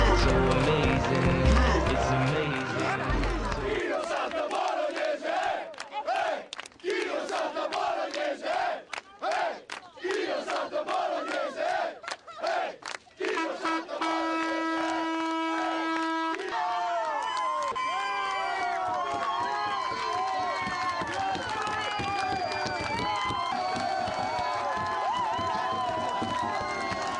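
An Italian basketball crowd roars at a game between Fulgor Libertas Forlì and Fortitudo, a loud sustained swell of cheering, chanting and clapping that carries on continuously for the whole stretch.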